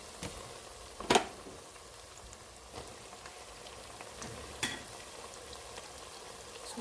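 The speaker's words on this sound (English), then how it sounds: "I'm going to just add in the tomatoes to it" Chopped tomatoes fry in a spinach palava stew, a steady soft sizzle and crackle with a few sharper pops and stirring knocks, close by and without talk.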